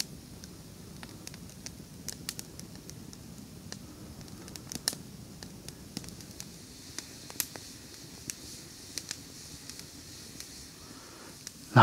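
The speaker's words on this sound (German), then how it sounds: "Na, ist ja doch noch super, dass ich ein Feuerl zusammengebracht habe." A small, smoky campfire at an overnight tent camp on a hill gives off sparse, faint crackles and pops over a low, steady background hiss, with no talking.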